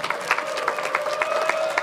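A crowd at a Porsche Carrera Cup Asia Pro-Am podium ceremony at Sepang applauds and cheers a third-place finisher, dense clapping with rising whoops, loud and close.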